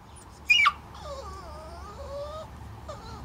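A dog whines in high, wavering whimpers: one sharp yelp, then a long drawn-out whine that rises and falls, close by in a quiet space.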